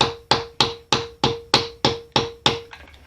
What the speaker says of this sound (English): Evenly, small taps, hammer it right